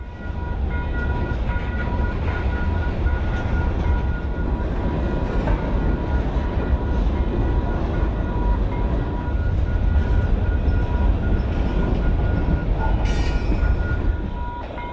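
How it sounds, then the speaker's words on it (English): A train rolls slowly past nearby, wheels clattering and squealing on the rails in a steady, continuous rumble. "It took a while for the train to pass"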